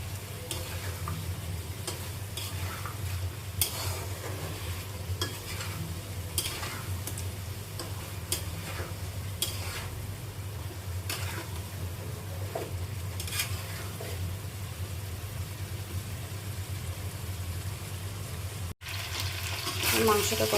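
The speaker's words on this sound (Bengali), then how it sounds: "দিয়ে মাংসটা ভালো করে কষাবো।" Spiced meat being fried and stirred in a pan for kosha, with a steady sizzle throughout and regular scraping strokes of a spoon against the pan, close and fairly loud, with no voice over it.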